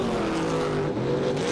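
Door car drag race cars, a roadster among them, roar at full throttle in a sustained, loud, droning engine blast with a slight shift in pitch midway, heard without commentary.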